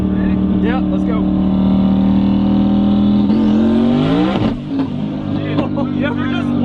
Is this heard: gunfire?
no